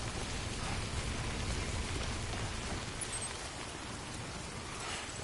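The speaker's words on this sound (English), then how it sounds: "This rain ain't eating my goddamn gear up." Rain pours steadily in the video game Death Stranding, a dense, even hiss of falling drops that stays constant and fairly loud with no voices over it.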